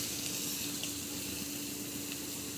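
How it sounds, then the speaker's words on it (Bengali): Coconut milk poured into a pan for a Bengali prawn malai curry, a steady liquid pouring hiss at low volume that runs continuously with no talk. "এবার আমি কড়ার মধ্যে নারকেল দুধটা দিয়ে দিলাম।"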